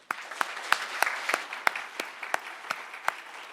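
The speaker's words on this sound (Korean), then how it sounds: "하나님께 새해를 주신 것을 감사하면서 영광의 박수 한번 부르겠습니다." Scattered claps ring out in a church during a New Year's Eve worship service, roughly a dozen sharp, spaced hand claps over a soft wash of quieter applause, fairly distant and reverberant.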